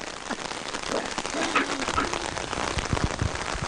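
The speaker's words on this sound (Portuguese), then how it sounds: "Até que deu uma maneiradinha na chuva, né?" Steady rain patters on surfaces at an outdoor wedding, a dense continuous wash of drops close by, with faint voices mixed underneath.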